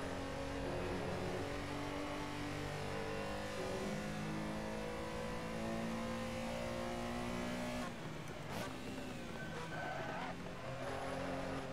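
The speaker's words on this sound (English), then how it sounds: "Little bit of brake lock up there, you heard?" A race car in a racing game at the Nurburgring GP circuit hums along with a steady engine drone, then its tires squeal briefly as the brakes lock up near the end.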